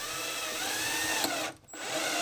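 A power drill drives stainless steel screws into kitchen drawers, a close, loud continuous whir that briefly cuts out before resuming.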